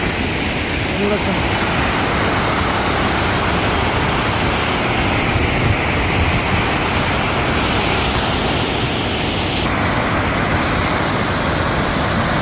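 Monsoon water of the Kadavinakatte reservoir in Bhatkal spilling over like a waterfall, a loud, constant broadband roar of rushing water filling the whole stretch without letup.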